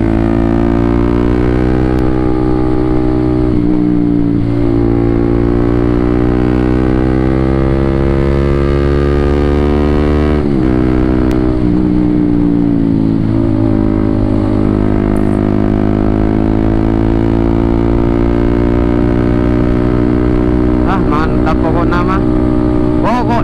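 A motorcycle engine drones loud and close on a solo ride along a winding road, its pitch rising and falling with throttle changes and dipping sharply around gear shifts, with no talk.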